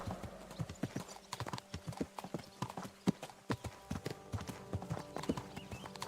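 Horse hooves clip-clopping at a steady walking rhythm while riding in Kingdom Come: Deliverance II, close and distinct, with a faint voice underneath.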